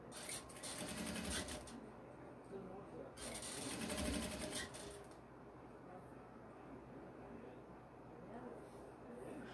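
A sewing machine stitching during a live session making a hygiene kit, with bursts of rapid mechanical whirring that start and stop, quiet overall, with faint background noise between runs.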